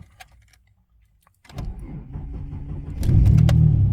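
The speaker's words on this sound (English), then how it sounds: "So if I start the car up" A car engine cranks and fires up after a near-silent pause, its rumble settling into a steady idle that swells louder toward the end, close by with no talk.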